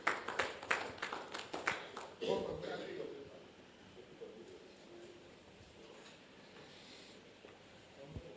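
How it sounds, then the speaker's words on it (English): A short burst of clapping rises from the audience at an alumni reunion AGM as members are called to the high table, then fades under quieter room noise and a speaking voice. "A round of applause for them,"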